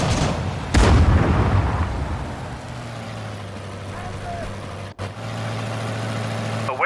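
Artillery fires in Sudden Strike 4, a heavy boom near the start followed by rumbling vehicle engines and a second sharp blast later, with unit voice lines under the battle noise.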